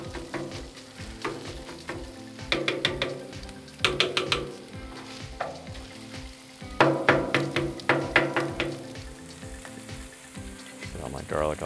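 Pork and vegetables for Filipino lumpia fry on a Blackstone griddle with a constant close sizzle, broken by bursts of rhythmic spatula scraping and clacking against the hot flat-top.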